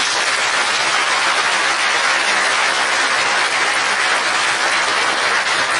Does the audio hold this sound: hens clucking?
no